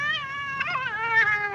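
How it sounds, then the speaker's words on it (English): A cat in The Twilight Zone meows in a long, drawn-out, wavering cry that rises and falls, close and clear, with no talk over it. "Rolly, get away from that cat."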